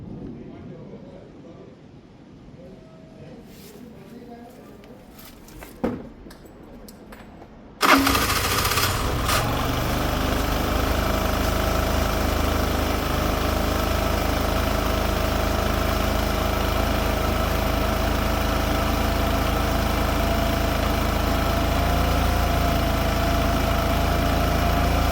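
Piaggio Fly 125cc scooter engine starting after quiet handling noises and a few clicks, then settling into a steady, close, loud idle that runs on evenly for many seconds.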